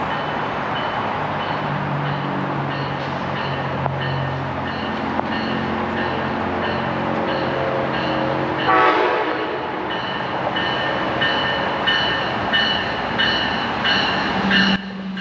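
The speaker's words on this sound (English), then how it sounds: "our train is arriving" An Amtrak Pacific Surfliner led by a Siemens SC44 Charger locomotive, hauling California bi-level cars, pulls into a station platform with a steady loud rumble, followed by repeated tonal signal pulses near the end.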